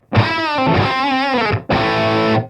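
Heavily distorted electric guitar through a Line 6 Plexi Variac amp model, aiming for a Van Halen tone, rings out in two loud sustained chords, the first with a wavering bend, separated by a brief break.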